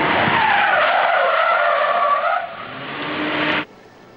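Large car tires skid and squeal loudly throughout a high-speed J-turn, turning to the rear at 25 miles an hour and reversing direction, the screech sustained for over three seconds before cutting off abruptly.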